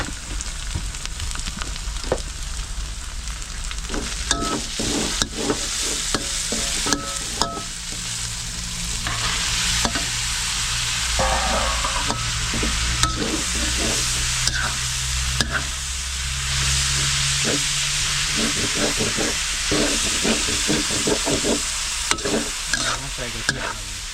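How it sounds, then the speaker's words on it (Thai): Loud continuous sizzle of side ingredients stir-fried in a pan for spicy wild boar stir-fry, with repeated clinks and scrapes of a utensil tossing food, close by and steady. "เอาเครื่องเคียงลงกระทะครับผม"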